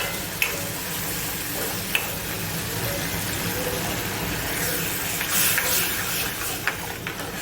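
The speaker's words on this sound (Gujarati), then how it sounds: "હવે આપણે છાશ નાખીશું" Buttermilk pours into hot horse gram curry in a pan, giving a steady hissing sizzle with a few small clinks of utensils, close and continuous without talk.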